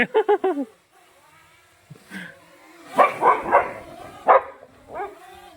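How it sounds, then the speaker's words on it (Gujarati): Dogs near the road bark a quick burst of four or five yips at the start, then a few scattered barks and yelps at moderate distance follow, with brief voices in between. "જોજો આડે કુતરા."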